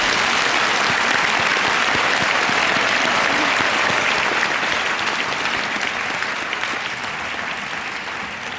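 Audience at a 2017 high school graduation ceremony at Riverside bursts into sustained applause, dense clapping from a large crowd that holds strong and tapers slightly toward the end.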